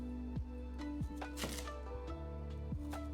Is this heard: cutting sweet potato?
yes